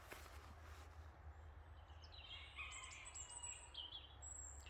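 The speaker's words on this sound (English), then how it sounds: "listen to the birds singing" Faint, high birdsong chirps and trills drift through quiet woodland over a low steady background rumble.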